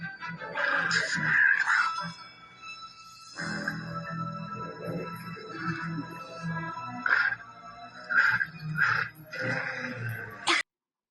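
A small Pomeranian dog yelps, whines and whimpers in bursts of high, strained cries with short pauses between, fairly close and moderately loud, stopping abruptly at the end.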